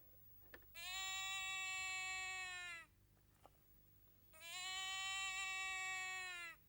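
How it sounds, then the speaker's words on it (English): Two long, drawn-out sheep bleats with clear harmonic tone, each lasting about two seconds and separated by a short pause with a faint click, heard close and alone against a quiet background. "Meh. Bit like a sheep,"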